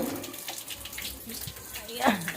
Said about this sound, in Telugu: నీళ్ళు వస్తున్నాయి, అన్నీ ఇట్లా నింపుకొని పెట్టుకోవాలి ఫ్రెండ్స్.